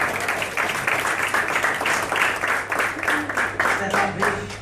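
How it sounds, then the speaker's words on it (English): A room of people at a property investment event gives a steady round of applause that goes on for the whole stretch, with faint voices mixed underneath the clapping. "I think we should honour her again, give another round of applause."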